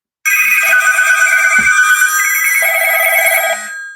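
A telephone rings loudly and close, two warbling electronic ring bursts with a short gap between them, fading at the end, with no one talking.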